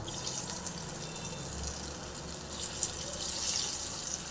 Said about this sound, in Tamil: எண்ணெய் காஞ்சிடுச்சுங்க. ஒரு பீஸாக போட்டுடலாம்.